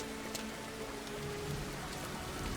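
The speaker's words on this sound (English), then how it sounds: "does it rain inside the buildings?" Steady rain hiss in the Farmer's Dynasty farming game, an even, continuous patter with a faint tonal hum underneath and no voices.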